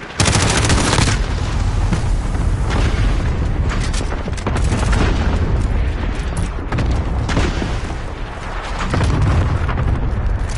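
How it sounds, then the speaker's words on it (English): Loud, sustained barrage of booming explosions and rattling gunfire from a cluster strike in Call of Duty: Modern Warfare, dense overlapping blasts rolling continuously with brief dips in intensity. "Allied cluster strike inbound."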